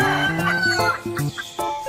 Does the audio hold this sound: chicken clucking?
yes